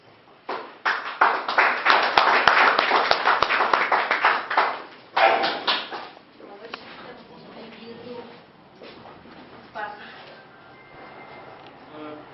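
An audience applauds a poet at a Luso-Brazilian poetry evening, with dense clapping building and then thinning into scattered claps before a voice begins speaking.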